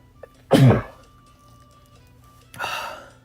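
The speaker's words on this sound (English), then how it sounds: "It's like sneezing so hard it hurts." A single forceful sneeze bursts out near the mic, followed by quiet, then a softer breathy exhale or sniff.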